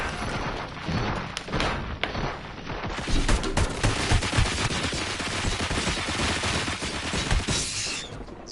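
Heavy gunfire in the video game Robocop: Rogue City, with loud, sustained bursts of rapid shots and occasional heavier booms, continuous and close for the whole stretch.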